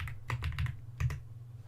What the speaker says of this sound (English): Got a new keyboard for Christmas